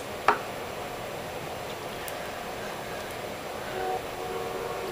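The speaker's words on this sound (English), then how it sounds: "this train keeps me up all night" A train passes near a home, a steady broad rumble of rolling wagons that holds for the whole stretch, with a brief sharp clank near the start and a slight swell later on.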